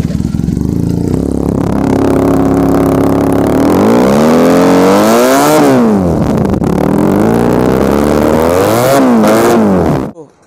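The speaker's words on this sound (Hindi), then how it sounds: "एक बार आप इसका एग्जॉस्ट हमारा व्यूअर्स को सुना सकते हैं, इसका आवाज़ कैसा है एक बार आप देख सकते हैं बैनली 300 का" Benelli 300 motorcycle exhaust revving up close, a loud rough idle rising into repeated throttle blips with swooping pitch climbs and drops, cutting off at the end.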